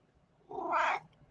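A pet cat gives one fairly close, drawn-out meow lasting about half a second in a quiet room.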